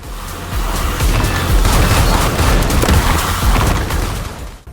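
Dense, loud barrage of booming explosions and gun blasts from the video game Tesla Force overlaps into a continuous rumbling roar, with no talking.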